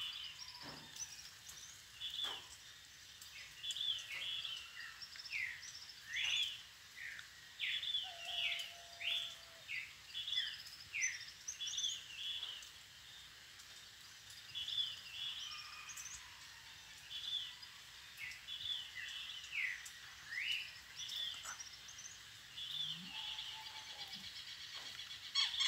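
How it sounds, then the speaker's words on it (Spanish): Birds singing at dawn in the countryside, many short chirps and whistled phrases repeating from moderate distance over a faint insect hum, with no talk. "Los pájaros despiertan la jibarita"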